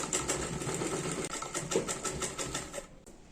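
Close, rhythmic whirring of a sewing machine running steadily for several seconds as it sews a seam on a kurti, ending with a brief pause.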